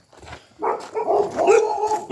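Dogs barking a short burst of several yips and barks, fairly close and loud, after a brief quiet start.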